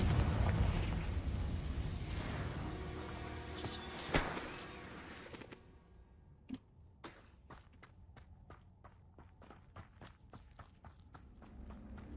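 Bombarda explosion spell in the video game Hogwarts Legacy: a loud blast and rumbling roar that fades out, followed by a series of sharp, spaced impacts and thuds.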